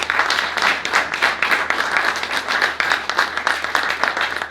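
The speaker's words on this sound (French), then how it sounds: "Si vous voulez bien les applaudir." Sustained audience applause for a panel of speakers at a French conference on digital technology and energy efficiency in buildings, dense steady clapping filling the whole stretch without pause.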